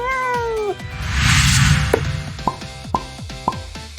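A cat meows as a sound effect: a long descending meow, then a run of short meows at a steady pace, close and clear over a soft background swell.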